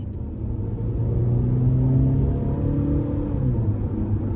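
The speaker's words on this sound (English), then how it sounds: "starting the test drive in this Captiva Sport, I'm actually very impressed with how this 4-cylinder gets up. just a tad noisy" A 2015 Chevrolet Captiva Sport LTZ with its 4-cylinder engine accelerates on the road, a steady, fairly loud low engine drone and cabin rumble rising slightly in pitch, heard from inside with no talking.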